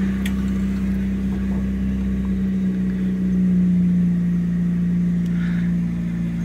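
A Fiat Uno with a manual choke and only 27,000 km idles close up, its engine holding a steady, even hum that dips slightly in pitch partway through, with no talk over it.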